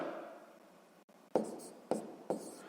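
Pen or pencil on paper writing out a long-division sum for a sixth-grade maths exercise: faint steady scratching, then three short sharp strokes spaced about half a second apart, quiet and close.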